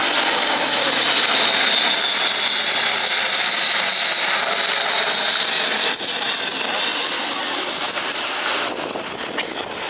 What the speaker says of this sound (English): for opening the Royal Air Force Cosford Air Show 2016 with that fly through from the A400M